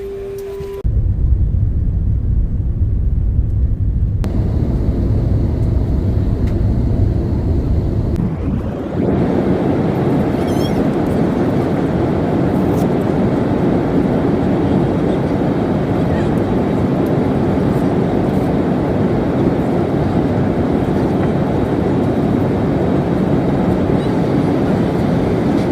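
Inside an airliner cabin during flight, a loud, steady broadband drone of engines and rushing air takes over after a quieter opening, continuing without a break.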